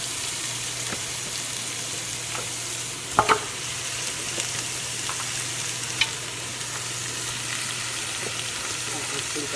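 Meat bones frying in a pot with caramelized tomato and onions, a steady broad sizzle with a few brief clinks and scrapes, and no talking.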